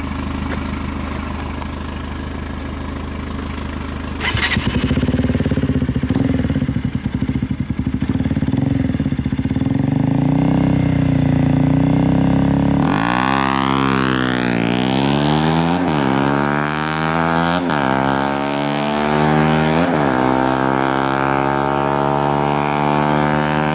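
Motorcycle engines, a BMW and a KTM, hum steadily at a race start, then roar loudly as they accelerate hard through rising, repeated gear changes, close and with no talk.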